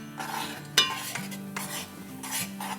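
Semolina roasting in a pan for halwa, stirred with a utensil: repeated scraping strokes and light clinks against the pan, with a soft sizzle underneath and one sharper knock near the start.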